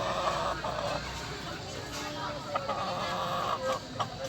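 Joey's fighting cock, a rooster at a Filipino cockfighting gamefowl yard, giving loud clucks and short calls amid outdoor bustle, with people talking nearby.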